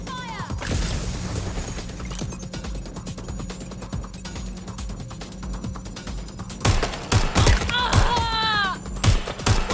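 Rapid bursts of gunfire in the video game Watch Dogs Legion, sharp repeated shots clustered throughout with heavier volleys near the end, mixed with game effects and a voice.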